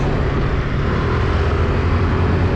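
A Suzuki Address V125 scooter runs at top speed on a road, with a loud, steady engine drone and rushing wind noise that holds even and unbroken the whole time.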